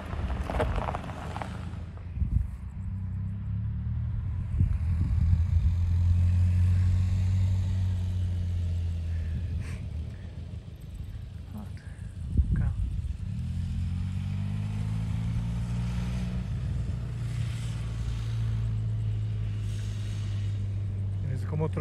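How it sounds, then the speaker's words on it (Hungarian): Harley-Davidson motorcycles ride through a double bend on the Zoncolan pass, their low engine drone rising and falling continuously with wind buffeting the microphone throughout, loud and close. "A motorosok, hogy abszolválják ezt a párkanyart."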